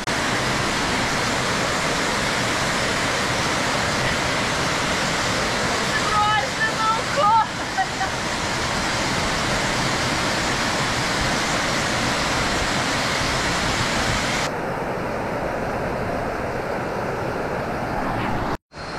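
A waterfall on Koh Samui island roars as a steady, close, broadband rush of water, with brief knocks and a voice near the middle, then a duller tone in the last seconds before an abrupt cut.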